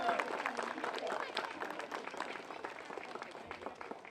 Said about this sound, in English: Let's give Ms. Superintendent Cassellius a big round of applause